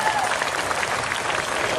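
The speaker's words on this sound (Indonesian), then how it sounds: "Mana tepuk tangannya bagi Yesus?" Audience applause at a church revival gathering in Sibolga, a dense, steady wash of clapping heard close and loud throughout, with voices mixed in.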